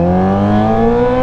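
A Kawasaki ZX25R fitted with a LeoVince LV10 exhaust howls at high revs, a loud, close, sustained engine note with rich harmonics that climbs slightly in pitch over about a second.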